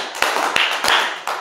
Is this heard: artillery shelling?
no